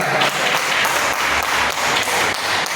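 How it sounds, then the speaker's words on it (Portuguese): A church congregation gives a loud, sustained round of applause during a Sunday sermon, dense, even clapping filling the room close by without a break. "Agora eu lhe convido a dar a mais forte salva de palmas ao Senhor Jesus."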